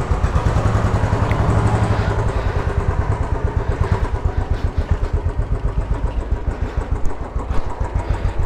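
Royal Enfield Bullet 500 single-cylinder motorcycle engine running close, loud steady rapid thumping beat as the bike rides along on Timsun tyres.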